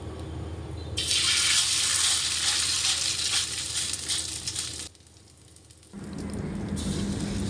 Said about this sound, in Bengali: আরেক চুলায় আমি পিঠাগুলো ভেজে নেব